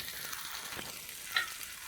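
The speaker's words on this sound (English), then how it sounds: "Hear that sizzle? That's what it's supposed to do." Cabbage sizzles steadily in a hot frying pan, a continuous bright hiss with a faint scrape of stirring.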